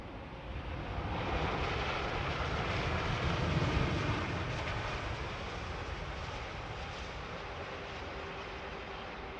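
A simulated airliner touches down with a small bounce and rolls out, a steady broadband engine and runway roar that swells slightly mid-landing, then holds even, with no voices.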